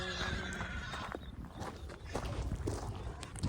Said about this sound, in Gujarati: તો અત્યારે આ ઘોડીને ઊંચી ખેલાવે જો વીર